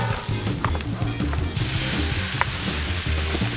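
Onions frying on a Camp Chef griddle, a steady loud sizzle with scraping and clanking of a spatula as they are moved around, close up.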